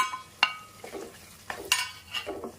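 Tomato pieces cooking in oil with onion, stirred with a spoon: a few distinct metallic scrapes and clinks against the pan over a soft sizzle, close and without talk.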